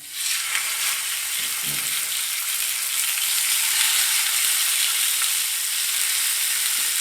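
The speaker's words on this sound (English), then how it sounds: "first of all we've got to sear the fish on the grill" Spanish mackerel fillet sears in a little oil on a hot grill, a loud, steady sizzle and hiss running nonstop up close, with a faint clatter early on.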